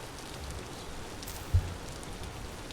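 Rain falls in the video game Vintage Story as a faint, steady patter with a single brief thump partway through and no talking.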